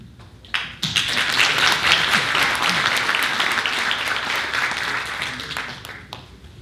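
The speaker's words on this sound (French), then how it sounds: "Alors, acclamation." An audience at a Christmas concert breaks into sustained applause that swells quickly after a few lone claps, holds full and dense, then thins toward the end.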